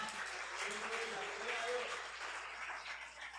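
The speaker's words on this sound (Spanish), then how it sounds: "Puede darle un aplauso al Señor" A church congregation at a worship service claps and cheers for the Lord, a dense, sustained wash of applause mixed with murmuring voices throughout.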